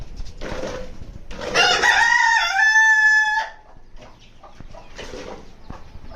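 A rooster in an aviary lets out one loud, close crow lasting a couple of seconds, surrounded by quieter rustling and faint clucks.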